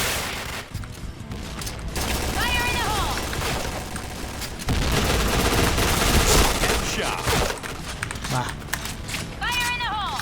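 Bombs and gunfire from the shooting game Point Blank come as dense, loud bursts of rapid shots and explosions that go on for the whole stretch, with a voice talking over them.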